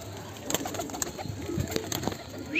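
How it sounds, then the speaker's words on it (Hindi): Madrasi pigeons coo softly in short, overlapping calls close by, with a few light rustles and flutters between them. "देख लो भाई कबूतर सारे"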